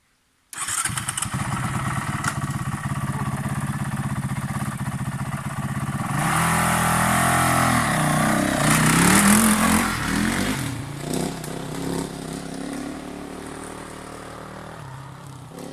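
Enduro motorcycle engine on Madeira starting up and idling with a steady buzzing drone, then revving up to a louder, rising whine before settling back, no talk over it.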